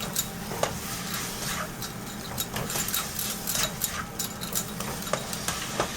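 Butter chicken being stirred in a pot over low heat, with soft repeated scraping and light clinks of the spoon against the pot under a steady low simmering rumble, close and fairly quiet throughout.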